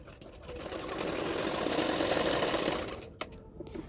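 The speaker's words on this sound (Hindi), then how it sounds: "किनारे किनारे पे एक सिलाई डाल दिया मैंने" A sewing machine stitches a seam on a double katori blouse, whirring steadily for about three seconds before stopping with a small click, followed by quiet handling.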